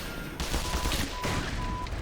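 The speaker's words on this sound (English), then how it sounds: "Look at those explosions." Loud, dense bursts of explosions and gunfire rumble in the Black Mesa video game, two heavy blasts in quick succession filling the mix with broadband roar and little pause between them.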